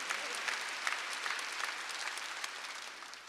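A church congregation clapping during a Korean Sunday worship service, a sustained crowd applause with dense, even patter that slowly tapers near the end, heard at moderate distance.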